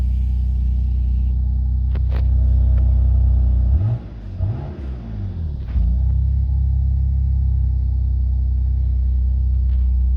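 A BMW M3 engine idles with a deep, steady rumble and then revs once, its pitch rising and falling over a couple of seconds before it settles back to a loud, close idle, with no talking.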